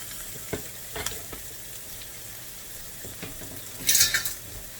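A T-bone steak sears in a hot skillet, giving a low, steady sizzle with a few soft clinks of the pan and a brighter burst of spitting near the end.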